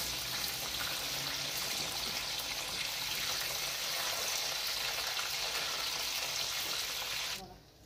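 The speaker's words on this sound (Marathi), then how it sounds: "तेलात आता तळून घ्यायचे" Soya chunks fry in hot oil with a steady, loud, hissing sizzle that holds evenly throughout, then cuts off abruptly at the very end.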